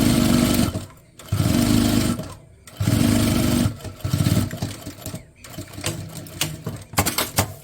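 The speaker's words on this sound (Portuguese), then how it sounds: "Agora, eu venho e passo a costura, ó." Sewing machine stitching a seam on a slim oral-hygiene toiletry bag, running in several close bursts of rapid whirring stitches separated by brief pauses.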